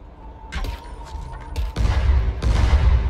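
Gunfire and explosions in the zombie game Dying Light, with loud booming blasts and bursts of shots from an improvised pistol and thrown explosives, dense and close, continuing under background noise.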